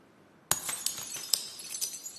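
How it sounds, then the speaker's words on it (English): Glass shatters with a sudden loud crash after a short silence, followed by scattered tinkling shards and clinks that fade over the next second and a half. "And breaking of glass can indicate the end of a relationship or a friendship."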